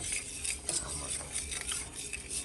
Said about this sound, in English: I'm going to continuously stir until this goes into the consistency that I want it